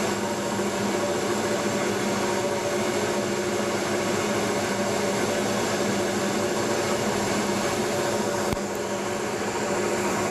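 A lathe or milling machine runs on automatic feed with its cutter engaged, a steady loud mechanical drone and whine holding evenly throughout with one brief click near the end, no talking.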